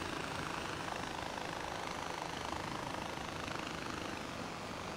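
A helicopter in Far Cry 4 holds a steady, dense whooshing drone as it flies, with no pauses and no voice over it.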